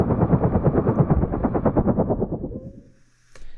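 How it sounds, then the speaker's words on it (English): A helicopter heard from inside the cabin while boarding, its rotor chop a muffled, rapid throbbing pulse that rumbles steadily and then fades out abruptly before a brief clatter. "I found a clip of a helicopter that I recorded while I was getting into the helicopter."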